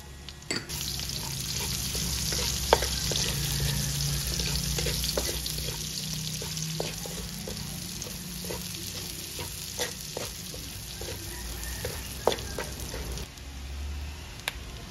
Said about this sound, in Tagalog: Igisa lang natin yung ating bawang at ang ating sibuyas.